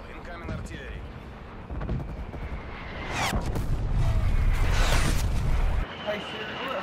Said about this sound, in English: Net call, incoming artillery.